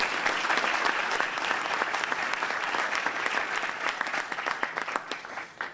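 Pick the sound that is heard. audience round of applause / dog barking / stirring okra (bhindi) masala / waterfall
audience round of applause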